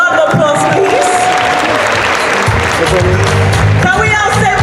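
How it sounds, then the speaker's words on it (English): Audience applause at a launch event for a Miss Malaika pageant group, a loud sustained clapping from a crowd with cheering and voices mixed in, continuing steadily throughout. "A round of applause, please."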